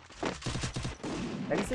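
Rapid bursts of gunfire from the Free Fire video game, a close, dense fusillade of repeated shots in quick rhythm with no talk over them.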